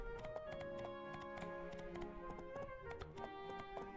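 Horse hooves in My Time at Portia clip-clop in a quick, steady rhythm, close and clear, over a layer of tonal game music, with no talking.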